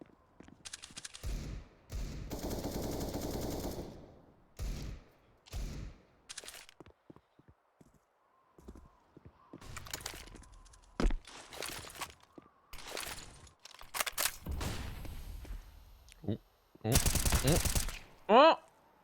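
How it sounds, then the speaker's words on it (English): Gunfire in Counter-Strike on the Nuke map: repeated loud bursts and single shots fired through walls, spread across the scene in clustered volleys with quieter gaps between them. "Now trying to hit the wall bangs, and well, he's successful with one of them."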